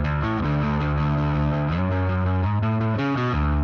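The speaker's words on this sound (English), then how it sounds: "love the saturation and distortion because it compresses the bass and it fits much better in a mix" A bass guitar, heavily saturated and distorted through a Bogren Digital Ampknob amp simulator, plays a compressed, gritty riff of sustained low notes and quick changes, with no voices.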